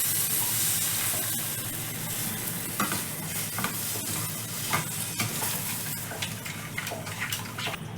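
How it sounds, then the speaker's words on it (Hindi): Spoon stirring a sugar, milk and desiccated coconut mixture cooking in a pan for coconut burfi, with steady scraping strokes over a soft continuous sizzle and bubbling, close and moderately loud with no talking. "अब हम इसे मिलाते हुए पकाएंगे जब तक चीनी मेल्ट नहीं हो जाती है"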